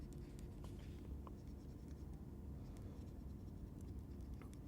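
A soft-lead pencil colours in an embroidery design, giving a steady, close, continuous scratchy scribble with small ticks and taps, quiet and unbroken, with no voice.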